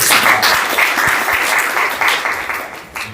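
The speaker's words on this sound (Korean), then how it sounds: "문화산업 팀에도 박수 한번 보내드리겠습니다" Steady audience clapping fills a hall at a Busan citizens' debate forum, a dense, even patter of many hands held close and loud throughout, fading slightly at the end.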